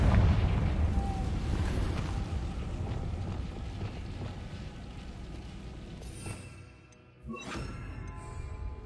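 Confringo blasting spells in Hogwarts Legacy, loud rumbling booms and bursts filling most of the span, dipping briefly near the end before another blast kicks in.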